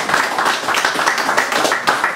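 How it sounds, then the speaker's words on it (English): Audience applause for performer Keith Drake, a dense, steady patter of many hands clapping at close range for a couple of seconds, with a few louder individual claps standing out. "More applause, please,"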